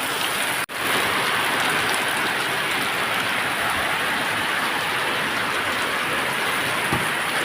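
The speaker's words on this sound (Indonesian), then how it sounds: "Hujan guys." Steady rain falls in a dense, even hiss that stays constant throughout, with one brief dropout near the start and no voices.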